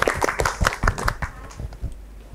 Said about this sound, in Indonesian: tepuk tangan buat Malik 2